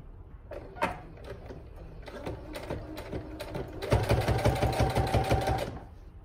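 A sewing machine stitches a straight seam on a small market bag, with scattered clicks and handling noises first, then a sustained run of rapid, even stitching that stops abruptly near the end.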